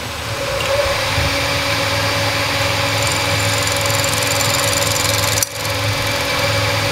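A milling machine runs steadily with a constant mechanical hum and whine, then briefly dips near the end before the tone resumes.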